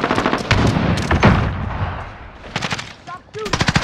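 Automatic gunfire from a RAAL machine gun in a military shooter video game, heard as rapid, loud, close bursts of shots with a sustained volley early on and a quick run of shots at the end, under radio-style voice chatter.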